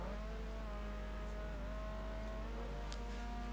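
Race car engines whine in a simGT racing game at the Aldo Scribante circuit, including a yellow BMW M3, with a steady high-revving drone and brief tire squeals, no commentary over it.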